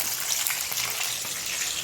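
Potato pieces hit a hot pan and sizzle in a brief, steady close hiss of frying, with no speech.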